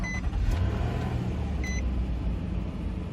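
A 2016 Nissan Murano idles after starting, a low, steady rumble up close, with two short electronic chimes from the cabin near the start and again partway through.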